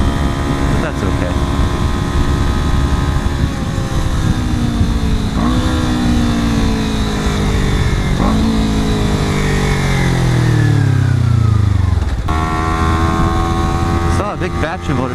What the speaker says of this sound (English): Big batch of motorcyclists, a little mix of sport and cruise, or standards maybe, on the freeway.